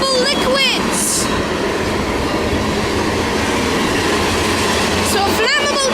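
A freight train of tank cars carrying flammable liquids, led by a GP50 locomotive, rolls past close by with a loud, continuous rumble and rattle of wheels, with brief squeals and short voices at the start and end.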